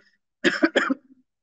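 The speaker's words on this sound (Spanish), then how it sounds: "disculpen la tos" Two harsh human coughs in quick succession, close and fairly loud, followed by a faint throaty trailing sound.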